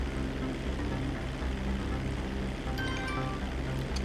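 Propeller airplane droning steadily in Grand Theft Auto V while it performs a barrel roll, a constant engine hum with faint whistling overtones late in the maneuver, moderately quiet.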